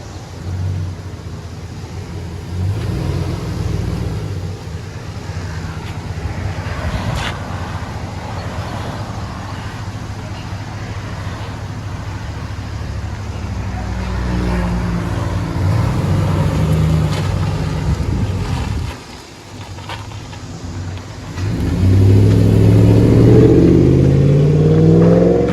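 A Chevy Silverado with a 5.3-liter V8, factory converters and a Flowmaster exhaust rumbles steadily at close range, its deep drone swelling through a couple of revs and climbing to a louder, raspier pull toward the end.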